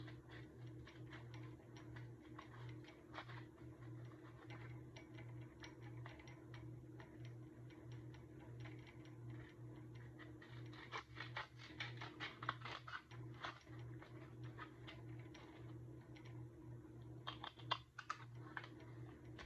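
Scissors snip through a paper pattern in short, uneven bursts of crisp clicks over a steady low hum, growing busier toward the end.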